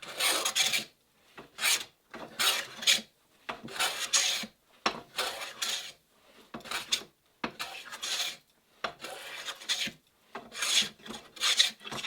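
Hand plane or rasp-like tool shaving wooden frames for a Catalina Wherry boat build, heard as repeated rhythmic rasping strokes, about a dozen close scraping passes with short pauses between, no talking.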